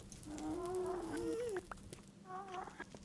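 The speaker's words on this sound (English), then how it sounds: "Multiplied chicken farm hidden in the walls somewhere." Minecraft chickens cluck in tonal, warbling bursts on a game chicken farm, one longer stretch followed by a shorter one after a brief pause, fairly close over steady low background noise.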